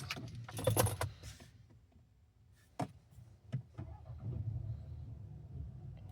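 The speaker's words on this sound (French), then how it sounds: "Donc on va mettre en route ce véhicule." A Cupra Formentor 1.5 TSI 150 hp with DSG7 gearbox is started: keys jangle close by, a couple of sharp clicks follow, then the engine settles into a steady low idle rumble.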